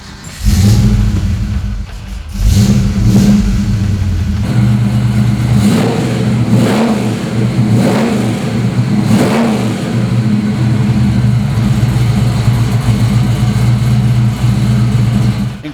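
A 1972 Ford Mustang pro touring car with a supercharged 351 V8 fires up loud and close, then rumbles at a lumpy idle broken by several sharp throttle blips and revs, with no talking.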